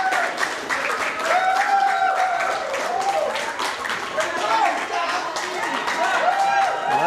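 A crowd applauds steadily at a women's world 9-ball pool championship match, with sustained clapping throughout and a voice talking over it.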